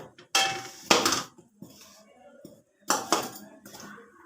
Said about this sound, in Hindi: और इसको अच्छे से मिक्स कर लेते हैं।